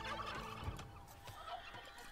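A turkey gobbles in Age of Empires 2, a short warbling call rising over steady game background noise, with a second fainter burst near the end.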